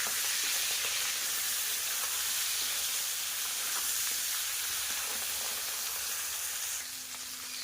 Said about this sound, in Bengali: এবার মাথাটাকে খুব ভালোভাবে ভাজা করে নেব